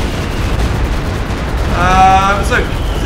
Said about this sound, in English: We're going to probably see a nice Stuka barrage here